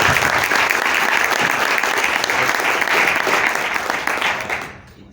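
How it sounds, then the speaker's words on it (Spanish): Loud, dense applause from an audience welcoming two speakers to the stage, many hands clapping in a steady wash that tails off abruptly in the final second. "así que un gran aplauso"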